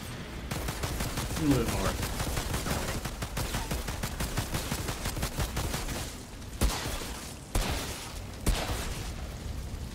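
Rapid handgun fire in Outriders pops in a fast steady stream, followed by a few heavier isolated shots near the end, with a voice speaking briefly over the shooting.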